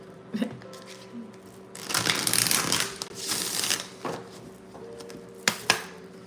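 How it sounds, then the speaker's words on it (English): Tarot cards being shuffled by hand, a loud riffling burst of papery flicks in the middle, then softer card handling and a few sharp taps, near and close to the microphone. "Let me shuffle after that."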